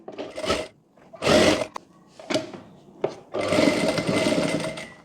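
A sewing machine stitches a boat-neck princess-cut blouse in short bursts of whirring: two quick runs, a few brief taps, then a longer continuous run, with silent pauses between as the fabric is repositioned.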